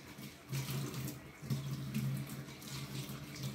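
A kitchen sponge is rinsed under a running tap in a sink, cold water splashing and gurgling steadily with a low hum as the sponge is squeezed, close and continuous.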